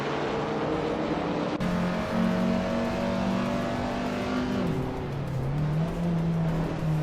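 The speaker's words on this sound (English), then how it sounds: "Scuderia Veloce and Hingle McCringleberry are nose to tail for 5th position." Race car engines in a racing video game, a loud continuous drone with steady high revs and a pitch drop about two-thirds through as the cars run nose to tail.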